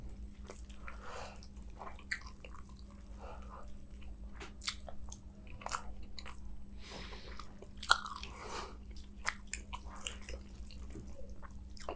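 A chocolate-like snack is bitten and chewed close to the mic, with soft irregular crunches and mouth clicks over a low steady hum.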